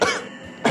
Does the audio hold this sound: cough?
yes